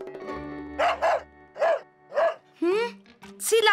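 A cartoon dog barks four times in an even rhythm, each bark clear and close, followed by a rising yelp, over a soft music bed.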